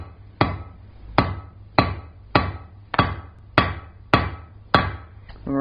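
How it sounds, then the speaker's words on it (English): Hammer blows on hot steel over an anvil while forging a ball-end coat and hat hook, eight sharp ringing strikes at a steady rhythm, close and loud, each with a brief metallic decay. "with the corner face of your hammer and the corner of the anvil"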